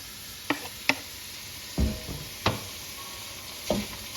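Italian sausage and garlic fry in a pan under a constant soft sizzle. Several distinct scraping and knocking strokes of a utensil break up the meat at an uneven pace, close by.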